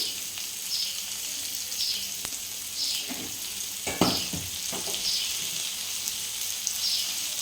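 Mangoes and salt go into a pan of frying mourola fish for a sour dish, giving a steady close sizzle with a few soft stirring scrapes and louder splutters partway through.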